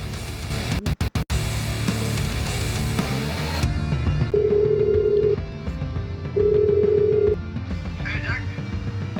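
A phone call to a man's number: a few sharp taps, then a steady hum and two long, loud electronic ringback tones a couple of seconds apart, with faint background sound.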